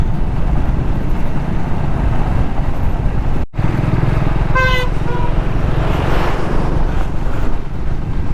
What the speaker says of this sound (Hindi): engine braking of a bike